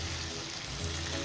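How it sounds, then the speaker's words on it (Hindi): Mutton pieces frying in hot oil in a karahi for a Peshawari Shinwari karahi, giving a steady, dense sizzle and crackle throughout at moderate loudness, with no talking. "गोश्त का कलर चेंज होने तक हम इसे ऑयल के अंदर फ्राई करेंगे"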